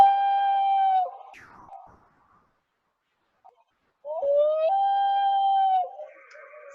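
Common loon wail call played from a recorder at a lecture, two long mournful rising-and-holding tones separated by a silent pause, clear and close.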